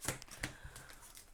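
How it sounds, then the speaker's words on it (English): Playing cards for the Aeon's End board game are shuffled by hand in a quick riffle of soft, papery flutters, close and quiet, with no talk over them. "And we'll shuffle."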